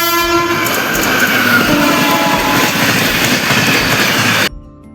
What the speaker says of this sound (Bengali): ট্রেন দেখো আসছে, ট্রেন